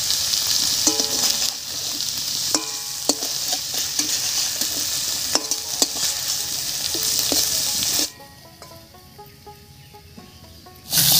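Eggplant fries with onions in a pan, a steady loud sizzle with repeated scraping stirs, then the sizzle drops sharply for a few seconds before returning.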